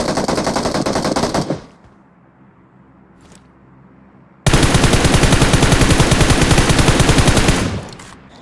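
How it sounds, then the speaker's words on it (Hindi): Automatic gunfire from PUBG Mobile (BGMI) rattles in two long, loud, rapid bursts, separated by a few seconds of near silence. "ये पोरे मेरे टीममेट के ऊपर गोली चला रहे होते"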